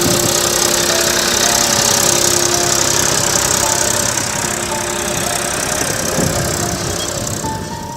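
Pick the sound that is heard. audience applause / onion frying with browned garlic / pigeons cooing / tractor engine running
tractor engine running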